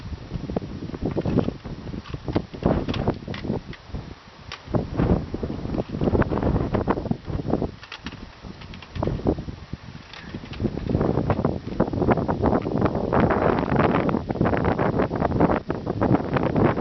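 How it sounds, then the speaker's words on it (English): Strong wind roars and buffets across the microphone on exposed Mount Jefferson, gusting loudly in uneven surges with rustling bursts and no voices. "Really windy"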